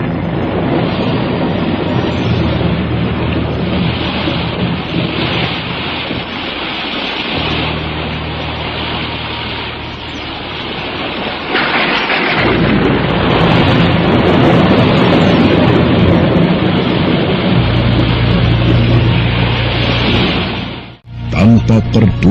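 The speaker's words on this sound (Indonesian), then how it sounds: "Langit bagaikan robek, memuntahkan deras hujan, dan pijar halilintar menggelegar" Heavy rain and thunder in a radio drama pour as a dense, loud wash of noise with deep rumbling swells, continuous for the whole stretch before cutting off abruptly near the end.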